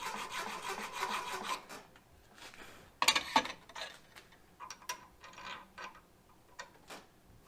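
A hand file rasping at the edge of a round hole drilled in steel plate, in a home garage welding-table build. Dense rhythmic scraping strokes fill the first seconds, then a sharper cluster of metallic scrapes and scattered lighter clicks follow.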